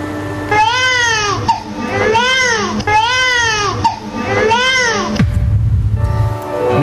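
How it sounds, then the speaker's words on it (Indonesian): A baby cries in repeated rising-and-falling wails, four or five loud drawn-out cries close to the microphone, followed by a short stretch of muffled background noise. "Oke, kita dengar suara tangisan yang pertama."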